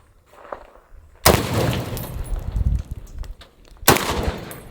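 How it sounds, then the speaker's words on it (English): Gunfire strikes tannerite-packed watermelons outdoors, with two sharp loud blasts a few seconds apart, the first followed by a long rumbling, crackling decay and debris, the second cut short. "All right, tannerite and watermelon makes for some fun projectiles."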